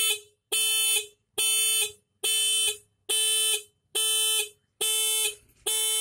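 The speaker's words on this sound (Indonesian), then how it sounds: "kalau seandainya ini kita fungsikan akan menjadi alarm bagi motor" A cheap homemade motorcycle alarm driven by the bike's horn blares loudly in a steady rhythm of about seven half-second bursts with brief gaps between them, with no talking.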